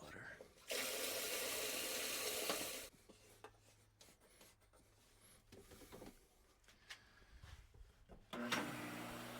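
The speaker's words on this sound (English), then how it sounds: "May have to fill this pump back up with water." Water gushes loudly for about two seconds while a pool pump for a Hayward sand filter is refilled, then gives way to quieter handling noises and intermittent rustling and clunks.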